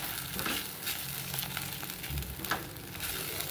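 Masala sautéing in ghee and butter for methi matar malai sizzles steadily up close, with a constant crackle and occasional soft scrapes and stirring knocks from the pan.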